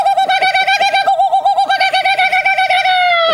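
A cartoon character's voice imitates a kookaburra call with a loud, rapid, bubbling warble held for about three seconds, then trailing off.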